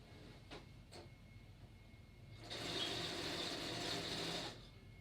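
A sewing machine stitching the side of a fabric window panel: a faint, quiet mechanical whir that runs steadily for about two seconds after a couple of soft clicks, with no talking.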